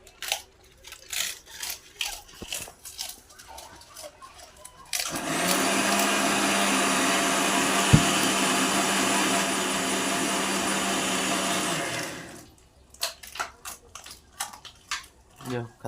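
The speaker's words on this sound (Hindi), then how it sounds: "यार मिक्सी चला दे" A kitchen mixie blender whirs loudly for about seven seconds, a steady high motor drone that starts abruptly and cuts off, with indistinct voices and household clatter before and after.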